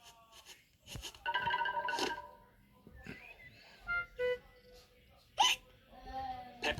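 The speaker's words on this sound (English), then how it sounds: "George still has hiccups." A cartoon piglet from a children's animated show has hiccups, giving several sharp, separate hiccups spaced a second or so apart. Short bits of childlike voice and light laughter fall between them, all close and clear.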